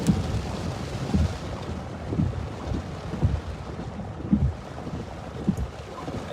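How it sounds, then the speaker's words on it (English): During a December derecho storm near Cedar Rapids, Iowa, strong wind roars and drives rain across a road. Dense, rushing noise comes in gusty low thumps against the microphone, steady throughout with no voices. "You can see the rain there getting blown across the road pretty well."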